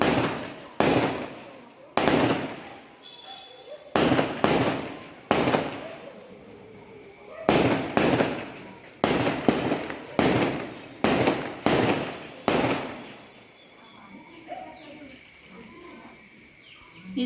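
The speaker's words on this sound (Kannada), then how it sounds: "ನಮ್ಮ ಊರಲ್ಲಿ ಗಂಗಮ್ಮ ಮೆರವಣಿಗೆ ಇತ್ತು ಅಂತ ಪಟಾಕಿನ ಇದ್ರು" Firecrackers burst during a village Gangamma procession in a long irregular string of loud, sharp bangs, then stop, leaving crickets chirping steadily in the background.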